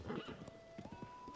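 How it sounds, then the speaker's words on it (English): A horse in the video game Zelda: Tears of the Kingdom gives a rising whinny while hooves clip-clop in a quick, steady rhythm, moderately loud and close, with no talk. "Can someone tell me how to use this horse?"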